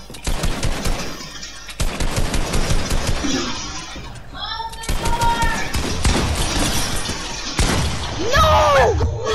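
Rapid bursts of gunfire from Fortnite box fights crackle loudly in repeated volleys, mixed with game effects and sliding electronic tones, while a player talks over the action.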